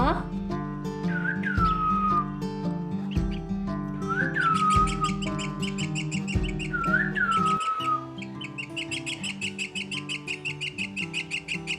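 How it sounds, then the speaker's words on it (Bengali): A pet bird whistles and squawks loudly in repeated rising shrieks, about three sharp calls, over a steady tonal background with rapid chirping later. "এদিকে পাখিটা এত চিৎকার করছে"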